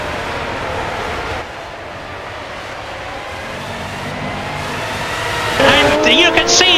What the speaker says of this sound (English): accelerating away past the pits up into 5th gear